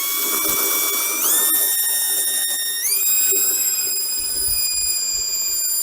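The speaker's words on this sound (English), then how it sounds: "so I'm going to drill these series of holes all the way down" A power drill bores holes into soft brick mortar without hammer mode, a loud high whine that steps up in pitch twice as the motor speeds up, running steadily with light grinding underneath.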